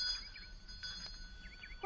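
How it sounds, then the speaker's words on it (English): A bell rung at a big gate in a 1954 radio drama, heard as a few bright, ringing chimes over a quiet background, close and clear, with no speech. "There's a fine big gate, Grandnevy. So ring the bell."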